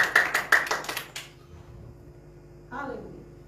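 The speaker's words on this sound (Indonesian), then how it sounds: "Biar sedikit tepuk tangan." A church congregation claps briefly during a sermon, a handful of sharp claps lasting about a second, followed by quiet and then a voice speaking.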